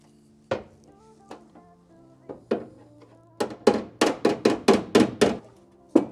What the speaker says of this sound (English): I'm gonna go on the inside of the car now and try and hammer this out as much as I can, as best I can.